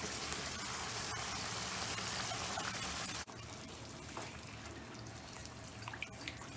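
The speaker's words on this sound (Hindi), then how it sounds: "इस दाल में पानी जो है वो चावलों के हिसाब से डलता है।" Water poured into soaked mash lentils in a cooking pot: a steady broadband pouring rush for about three seconds, then quieter trickling and dripping, fairly close and moderately loud with no talk.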